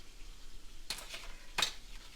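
Flour worked into hot bacon grease for a Cajun roux: a faint, steady sizzle broken by two brief scraping stirs of the pan, with no one talking.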